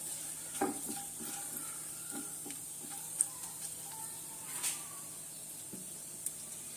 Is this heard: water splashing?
no